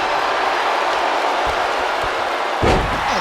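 Wrestling arena crowd at a WWE Raw event: a steady, loud roar of cheering throughout, with a few thuds and a heavier slam-like swell near the end.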